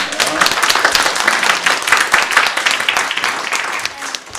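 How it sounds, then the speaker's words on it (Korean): A church congregation claps during a Sunday worship service to encourage the new family team, with the dense applause staying steady and fairly loud for several seconds. "우리 새가족팀 너무 애쓰고 수고하시는데 우리 격려하고 박수하도록 하겠습니다."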